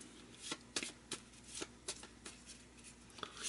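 Cards drawn and shuffled during a tabletop board game, a series of quick papery snaps and flicks at an uneven rhythm, close and fairly quiet with no talking.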